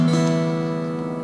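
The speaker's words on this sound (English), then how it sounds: "it sounds like this when you brush the strings" A single brush across the open strings of a guitar in standard tuning, one close, ringing unfretted strum that sustains and slowly decays, with no talking.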